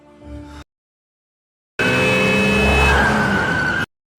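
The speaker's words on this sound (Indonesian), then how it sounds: "terjadi kecelakaan mobil tunggal yang menabrak trotoar tepat di depan gedung kepolisian" A car skids and crashes into a curb: a brief engine burst, a gap of silence, then a loud sustained tire squeal with rising engine noise that cuts off abruptly.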